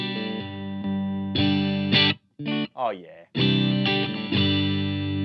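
An electric guitar played through a GTRS pure boost effect rings out in bright, sustained, boosted chords, broken by a short gap and a few quick bends before the chords swell back; someone briefly speaks partway through.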